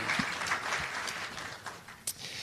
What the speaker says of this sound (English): Let's give a big round of applause for Darlene